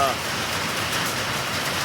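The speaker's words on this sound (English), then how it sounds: "here's the hail. It's not a big bad hail" Hail falls at a motorcycle rally in Sturgis, making a dense, steady hiss and patter on surfaces that stays constant throughout.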